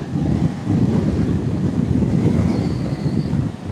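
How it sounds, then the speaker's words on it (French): Strong, steady wind buffets the microphone while a Segway GT3 Pro electric scooter is ridden at night, a continuous loud low rumble with no pauses. "Il y a beaucoup de vent quand même."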